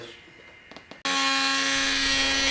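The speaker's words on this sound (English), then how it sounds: "I used the multi-tool to cut the floorboard and the shoe molding so I can remove them" A multi-tool cuts into a wooden floorboard and shoe molding, starting abruptly after a few faint taps and then running as a loud, steady buzzing drone up close.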